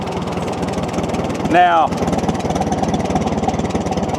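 An antique Farmall tractor engine idles steadily with a low rhythmic chugging throughout, close and continuous, while someone talks over it with one brief spoken word in the middle.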